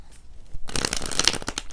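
Tarot deck being shuffled by hand, starting after a brief quiet moment and then a dense run of crisp, rapid card riffling and flicking, close up and fairly loud, with no voices.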